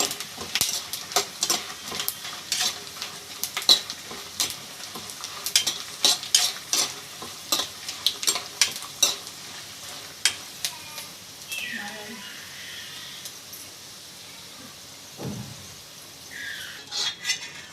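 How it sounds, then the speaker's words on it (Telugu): Cumin seeds crackle and sizzle in hot oil while a spoon scrapes and stirs the pan in quick, repeated strokes; faint voice briefly. "జీలకర్ర ఇవన్నీ కూడా బాగా వేపు వేపుకోవాలి"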